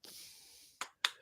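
Two sharp, crisp hand claps land close together near the end, after a stretch of faint steady hiss, close and fairly loud with no voices.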